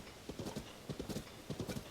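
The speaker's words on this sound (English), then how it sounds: "Hey, we got a horse!" Rhythmic horse hooves clip-clop in Zelda: Tears of the Kingdom, steady trotting beats repeating clearly and close with no voices over them.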